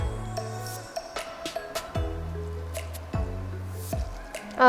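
Water is poured into wheat flour batter with egg and green colouring, giving wet squishy drips and splashes in irregular bursts, close by, with a louder liquid rush at the end.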